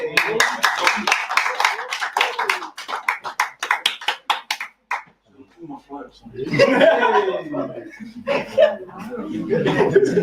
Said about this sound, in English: please give a round of applause to our first speaker from Soul Machines, Mr. Junior Nanai